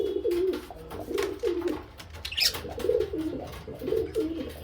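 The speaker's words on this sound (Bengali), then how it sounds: "এই যে পায়রাটা" A pigeon coos close by in soft repeated rolling phrases, about five bursts with brief gaps and a faint chirp in between.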